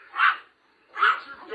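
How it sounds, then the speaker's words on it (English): Two sharp, loud barks from a dog inside a store, evenly spaced about a second apart, close by. "your dog is literally barking at us and distracting us"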